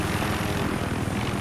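A military helicopter in Battlefield 3 multiplayer roars close by with a dense, rumbling rotor chop and engine wash, loud and continuous throughout.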